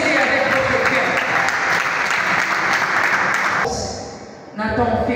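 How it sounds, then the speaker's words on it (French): Audience at a celebration event applauds the musicians with sustained, dense clapping that fills the room, dipping briefly near the end before surging again. "applaudissez-les avec votre cœur"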